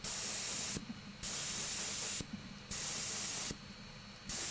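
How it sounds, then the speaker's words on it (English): An airbrush fed by an air compressor sprays paint onto Warhammer 40k Space Marine miniatures in repeated bursts of steady hiss, about three bursts with short pauses, close but soft. "George Guerrero, I think your new compressor should be louder than the current one"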